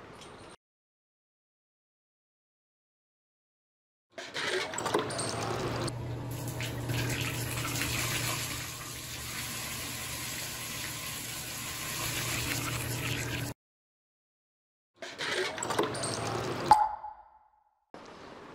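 Water running from an outdoor tap into a container, a steady splashing fill lasting several seconds, then stopping, followed by a short burst of water with a small plop.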